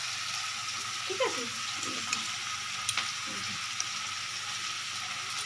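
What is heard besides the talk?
onions frying in a pan with mixed spice paste added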